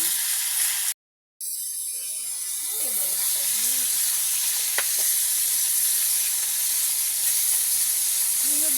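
Fish frying in hot oil in a pan gives a steady broadband sizzle after a brief cutout, with a faint voice murmuring in the background.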